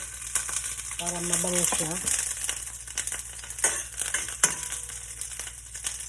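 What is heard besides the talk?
garlic and onion sautéing in a pan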